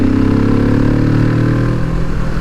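A Kawasaki Vulcan S motorcycle engine pulls smoothly at low revs, a steady loud mid-pitched drone throughout with no talking over it.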